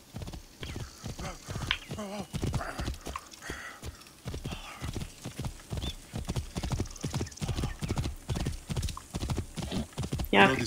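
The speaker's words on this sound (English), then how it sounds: "We'll just borrow one of the horses." Horse hooves clip-clop at a steady walking rhythm in the video game Assassin's Creed Origins, close and clear throughout, with a short whinny near the start.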